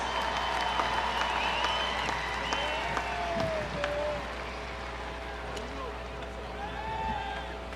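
A stadium crowd at a Savannah Bananas baseball game applauds the team's cast, with distant sustained clapping and cheering, an announcer's voice over it, and a quieter lull in the second half.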